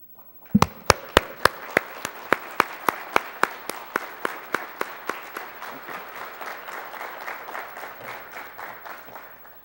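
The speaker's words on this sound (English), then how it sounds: "would you kindly stand so we could give you a round of applause?" An audience at a college nurse pinning ceremony claps for standing military members, opening with a few sharp, distinct claps that quickly thicken into steady, sustained applause lasting several seconds.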